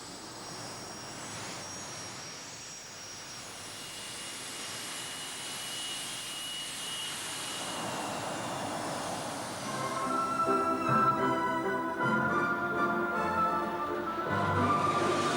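Alpha Jet military training aircraft flying, a steady jet engine roar throughout that grows louder and rougher in the second half, with no speech.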